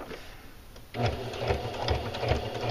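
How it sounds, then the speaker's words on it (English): A sewing machine edge stitches the casing of a pair of pajama pants close to the fold, starting up after a quiet second and then running steadily and loudly near the microphone with a rhythmic whir and slight pulsing. "I'm edge stitching around. It's about a little bit, just barely away from the fold."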